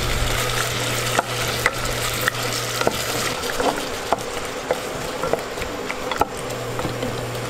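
Spring beans (sitaw) being sautéed with sardines in a pan crackle and sizzle steadily while a utensil scrapes and knocks the pan in irregular taps, close and fairly loud, with a low hum underneath.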